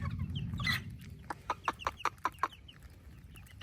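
Black Burmese gamecock chickens cluck in a quick series of short, sharp calls, about seven in a row, fairly close, over a low background rumble.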